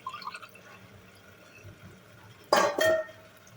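Water is poured into rice in a cooking pot, one and a half glasses to one glass of rice, as a short splashing gush near the end after quiet kitchen sounds.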